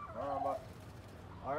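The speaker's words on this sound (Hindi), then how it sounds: "अंदर जा चुके हैं टर्की हमारे" Turkeys in a backyard breeding setup, with a male near a female, give a short honking gobble-like call that fades then rises again within a couple of seconds, fairly close against low background noise.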